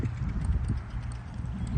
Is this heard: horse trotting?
yes